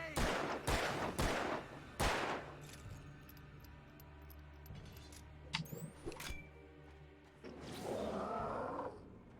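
Gunfire in the video game Alan Wake during a confrontation with a kidnapper: several sharp loud shots in the first two seconds, then scattered bangs, clicks and a rumbling roar later.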